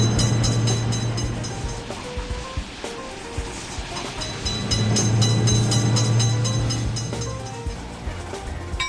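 A train rumbles past a level crossing in a video game, a steady loud roar with a droning low hum and rhythmic clatter throughout, no voices.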